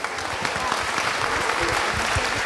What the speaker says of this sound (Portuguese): nosso artista, uma salva de palmas para ele.